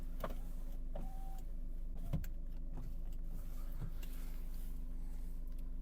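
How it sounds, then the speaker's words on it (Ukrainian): The electric power window of a Nissan Qashqai, a 2.0 diesel, runs with a steady motor whine under a low engine drone, punctuated by a few faint clicks and thumps close by. "Далі, склопідйомник є, задній є."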